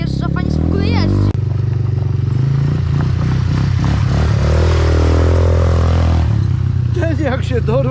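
Quad ATV, a 180, fitted with a Zaptor exhaust, riding up and down slopes; a loud, close engine note that revs and falls in pitch, with some clatter and a brief knock.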